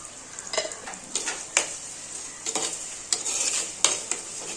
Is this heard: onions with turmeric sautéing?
yes